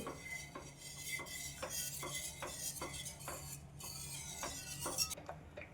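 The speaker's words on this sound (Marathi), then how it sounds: "आता कमी गॅसवर सतत ढवळत हे पीठ शिजवून घेऊ" Spoon scraping and tapping in a pan of rice flour dough cooking over low heat, a regular stirring rhythm of roughly two strokes per second, quiet and close with no talking.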